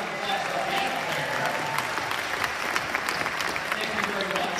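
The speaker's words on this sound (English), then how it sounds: "what a nice round of applause for the piano player" Audience applause for a piano player at a high school performance, a steady wash of many hands clapping at moderate distance, continuous throughout with a faint murmur of voices underneath.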